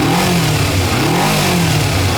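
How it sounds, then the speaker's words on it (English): A 2007 Kawasaki Ninja EX250 motorcycle engine revs loudly and close by, its pitch rising and falling through repeated throttle blips with no pause. "I'll let you rev it up here."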